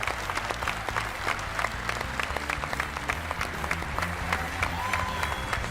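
Audience applause for a contestant on a Turkish singing competition show, steady dense clapping from a large studio crowd that holds at an even level throughout.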